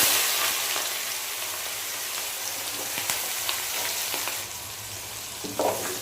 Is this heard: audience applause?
no